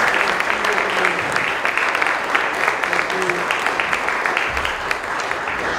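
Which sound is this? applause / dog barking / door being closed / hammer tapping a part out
applause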